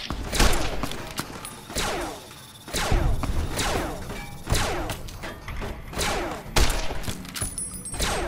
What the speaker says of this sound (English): I think someone have a grenade launcher or something